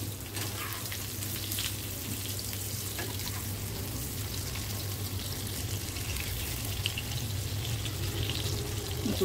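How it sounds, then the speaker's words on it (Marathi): Pieces of rawas fish fry in a pan, a low, constant crackling sizzle with a hum underneath and no talk, steady and fairly quiet throughout. "हे आता आपण तळून घ्यायचं आहे। आपली एक बाजू झालेली आहे, आपण दुसरी बाजू करूया।"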